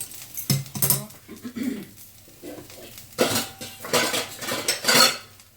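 A spoon scrapes thick cauliflower-leaf paste out of a wok into a bowl, giving repeated metallic clinks and scrapes in irregular bursts with short gaps between them.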